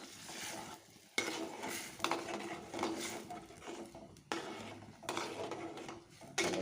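Semolina (rava) being stirred into boiling water in a pot for upma, with repeated scraping and clinking stirs and a soft bubbling hiss, sharp utensil strikes recurring every second or two, up close with no talk.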